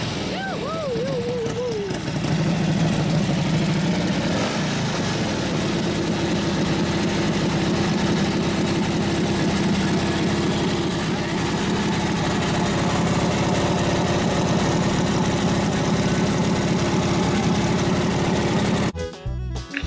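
A vintage Harley-Davidson stroker race engine with high compression, circa 1915, running steadily after a kickstart, a loud continuous rumble that holds for most of the time before cutting off near the end.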